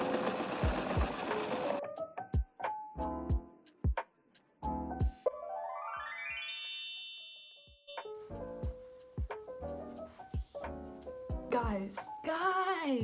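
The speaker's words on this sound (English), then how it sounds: "Let's get this shirt sewing." A sewing machine stitches a shirt in repeated short bursts of rapid mechanical whirring, stopping and starting in bursts with clicks between runs, close and fairly loud, while a chime-like tone sweeps upward in the middle.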